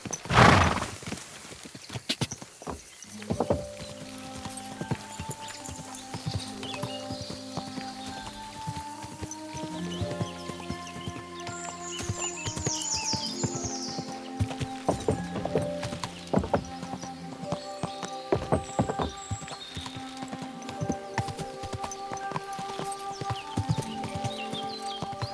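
A horse in Kingdom Come: Deliverance 2 clip-clops along with steady hoofbeats, lets out a whinny near the start, and walks on under a soft rain-like patter and layered game ambience.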